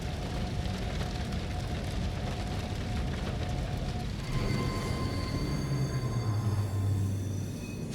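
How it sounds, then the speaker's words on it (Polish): A train rumbles past in the 2023 horror video game Layers of Fear: a steady, loud broadband roar that swells after the midpoint, with metallic tones ringing over it. "Fajny pociąg."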